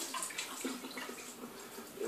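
Cold tap water runs and splashes as a siphon from an ELM Leblanc Megalis boiler is rinsed under the faucet, a steady nearby gushing with small shifts in splash.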